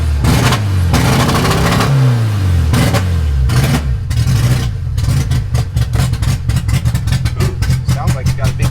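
Small Mitsubishi-built CMC mini truck engine revving hard, said to have a big cam, with loud rising and falling pulls then a lumpy, choppy idle, heard up close throughout.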